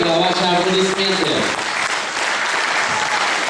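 Applause from the audience at a folk song festival competition in Ivanovo, opening under the last sustained tones of music and continuing as steady, dense clapping alone.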